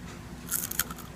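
A bite into a small crispy deep-fried tonguefish gives a quick, close crunch with a couple of brittle cracks over a faint background hum.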